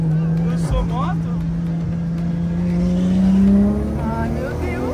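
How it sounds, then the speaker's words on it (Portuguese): Heavy city traffic with cars and motorcycles in Brazil, a steady engine drone with passing vehicles and a rising rev, heard from inside a vehicle while people talk over it. "Tá muito trânsito, mano."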